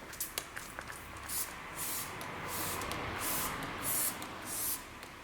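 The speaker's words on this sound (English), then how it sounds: "I'm going to be using the Marc Jacobs Recover Perfecting Coconut Mist" A Marc Jacobs Recover Perfecting Coconut Mist setting spray is spritzed onto a face in about five quiet, airy bursts spaced across a few seconds, with a faint tap or two near the start.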